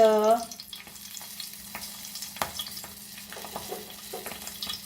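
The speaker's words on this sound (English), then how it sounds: "Oil is hot and we'll start frying this." Quiet, steady sizzling of cabbage rolls frying in hot oil, with a few soft clinks and stirring sounds scattered throughout.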